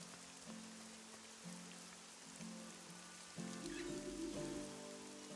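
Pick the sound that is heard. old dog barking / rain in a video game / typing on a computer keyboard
rain in a video game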